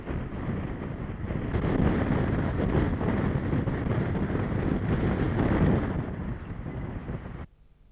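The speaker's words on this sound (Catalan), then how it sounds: "Són les imatges que ens deixa de moment aquest temporal de vent, aquesta forta ventada" Strong gusting wind during a windstorm, a loud, continuous roar with heavy wind buffeting on the microphone, fading slightly near the end before cutting off.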